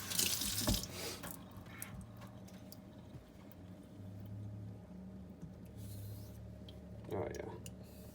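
Water runs and splashes as a whetstone is rinsed during knife honing, a steady faucet-like flow with a few drips and clinks, fairly quiet and close.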